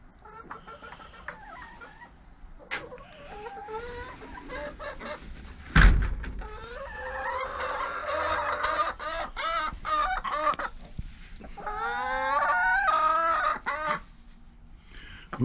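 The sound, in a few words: chickens clucking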